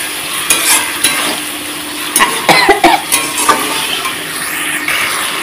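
Cumin and bay leaf spice paste sautés in oil in a pan for a fish roe curry, a close sizzle broken by several sharp spoon scrapes and stirring knocks.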